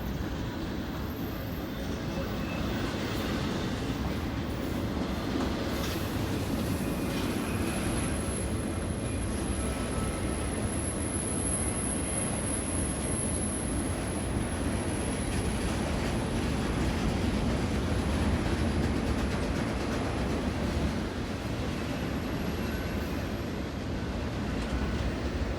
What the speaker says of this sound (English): I have to say, this is one long train.